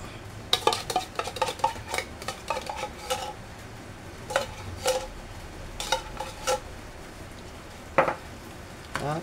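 Fruit salad being stirred in a bowl, with a spoon clinking repeatedly against the sides in short, uneven bursts, close by with no voices.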